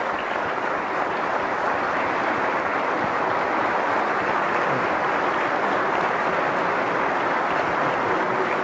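Sustained applause from an audience during a governor's State of the State address in West Virginia, dense and steady clapping filling the room without letup for the whole stretch.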